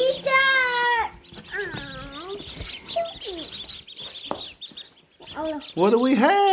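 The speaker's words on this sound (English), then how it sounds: "Baby ducks!" Ducklings peep in high, thin chirps while excited voices talk and exclaim over them, close by.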